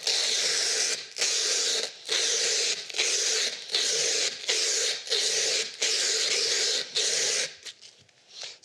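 Emery cloth drawn back and forth across a steel piece clamped in a vise, making a loud, rasping scrape repeated in about eight steady strokes, with short gaps between them and nobody speaking.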